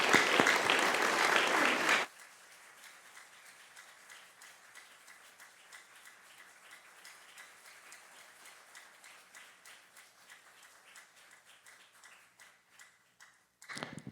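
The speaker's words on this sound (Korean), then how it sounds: "우리 선교사님 나오실 때 뜨거운 박수로 환영해 주시기 바랍니다" A church congregation gives a missionary a welcoming round of applause, loud dense clapping that cuts off abruptly after about two seconds, followed by quiet room noise with scattered soft ticks and a few faint claps at the end.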